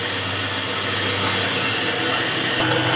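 A steady, loud electric motor whir from a mixer whipping egg whites, running continuously up close, with a faint rattle and no talking.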